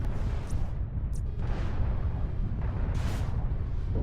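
In the MechWarrior Living Legends game, a destroyed mech explodes with a loud, broad rumbling boom, followed by several more bursts and crackling blasts over a dense, continuous low roar.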